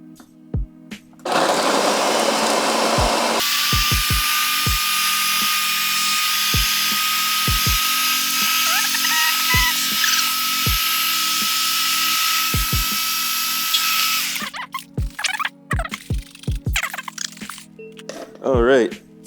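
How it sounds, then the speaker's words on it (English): A countertop blender whirs loudly and steadily for about thirteen seconds while blending a smoothie with hemp milk, then cuts off into clinks and light handling noise. "let's go ahead, blend this up"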